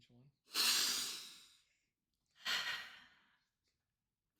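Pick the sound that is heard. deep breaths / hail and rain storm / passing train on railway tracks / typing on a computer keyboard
deep breaths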